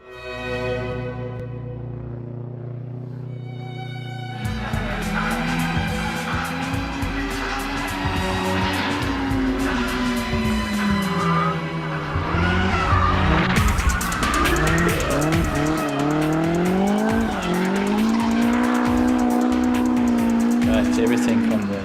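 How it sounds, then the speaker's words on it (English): A Nissan S14 drift car slides with long wavering tire squeals and a revving engine that rise and fall over rhythmic music. A voice raps over the track throughout. "S14 has a history of being a very good drift car."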